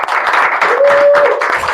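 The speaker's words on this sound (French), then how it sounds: "Sous nos applaudissements, Madame Clark Milandou" Audience applause at a diploma ceremony for an event decoration course, a brief burst of clapping from a crowd with a faint tone running through it, fairly loud and close.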